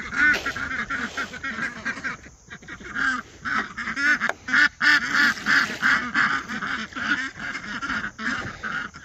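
Ducks in a homestead barn quack loudly and continuously, a dense, nasal chorus of overlapping calls close at hand.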